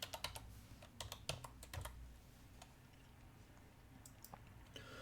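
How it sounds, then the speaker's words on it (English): A computer keyboard being typed on nearby in quick bursts of clicky keystrokes, busiest at first, then sparse taps after a short lull; faint and quiet overall with no talking. "So we'll type in 9 EMA. And we'll type in the 21 EMA."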